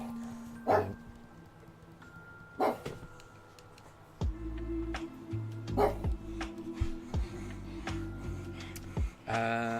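Dogs barking indoors, sharp barks and yips coming in irregular bursts over a low steady household hum, moderately close and loud, with quieter gaps between outbursts.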